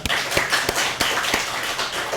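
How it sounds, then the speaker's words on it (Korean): A church congregation clapping during a Sunday morning service, a steady run of overlapping claps at moderate volume that continues throughout without pause. "박수 해봅시다"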